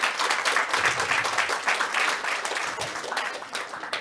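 Sustained applause from an audience, a dense and steady patter of many hands clapping at moderate loudness.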